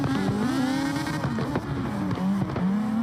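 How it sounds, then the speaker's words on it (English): Mazda RX-7 rotary engine screaming through a drift at a competition round, a loud continuous high-revving wail with wavering pitch and tire squeal, heard close and alone. "You can hear that rotary engine squealing loud, man."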